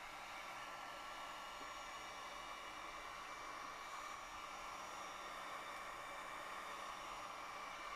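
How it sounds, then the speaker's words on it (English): A heat gun blowing hot air onto the top of a Christmas candle to remelt its surface, a steady, even, close whoosh of fan noise held without a break. "So I'm going to take a heat gun and just melt the top of this."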